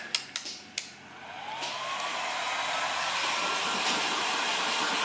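A few sharp clicks come first, then a heat gun blows a steady whooshing rush of hot air over a Ford Fiesta ST fog light lens, close and continuous.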